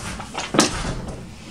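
A front door opening or closing indoors, a single sharp knock-like thump amid faint room noise, brief and fairly close.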